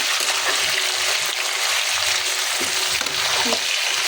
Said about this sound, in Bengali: এই চিকেনটা আমি দিয়ে দেবো পেঁয়াজের সাথে।